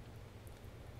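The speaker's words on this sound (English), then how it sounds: "It's raining." Steady rain pours down across a modded Minecraft farming world, a soft continuous patter and hiss that stays even and low in level, with no talk over it.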